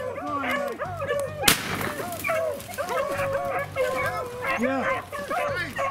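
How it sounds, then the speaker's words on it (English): Hunting dogs on a rabbit hunt bark and yip in rapid, overlapping bursts close by, with one sharp loud crack early on and a person speaking briefly. "Right out of the gate, the dogs have picked up the scent."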